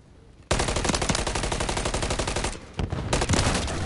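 Sustained automatic gunfire in the video game Call of Duty, a loud rapid machine-gun stream that cuts out briefly and then resumes at full intensity.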